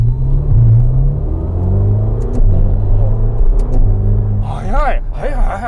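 A Ferrari California T with the Handling Speciale package idles and revs, a deep, loud engine rumble heard from inside the car that rises in pitch with sharp revs near the end, while people talk over it throughout.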